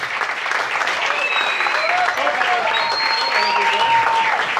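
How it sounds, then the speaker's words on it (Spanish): Audience applauding for a band at a stage show, steady dense clapping throughout with faint crowd voices and whistle-like tones mixed in. "Fuerte el aplauso."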